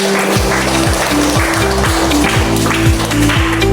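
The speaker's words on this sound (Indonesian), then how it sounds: "Beri tepuk tangan untuk Anda" Students in a classroom clap for a classmate, a dense, steady round of applause running the whole time, mixed with rhythmic hand beats and room murmur.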